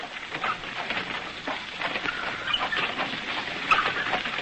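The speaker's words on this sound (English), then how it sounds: "And raining again." Rain falling as a radio drama sound effect, a steady close hiss of patter with faint irregular clicks throughout.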